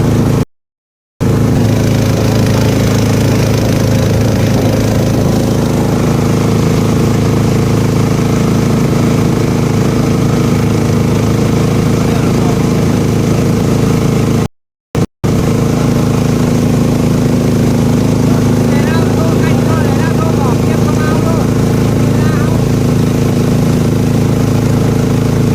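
A speedboat engine drones loudly and steadily at speed on a trip by boat, a continuous close mechanical roar with water noise that breaks off only in two brief dropouts.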